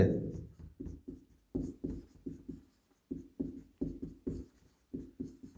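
Writing during a Class 9 algebra lesson: a pen or marker taps and scratches in short, rhythmic strokes, close and distinct, with brief gaps between letters.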